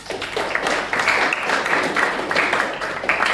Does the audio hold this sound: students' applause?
yes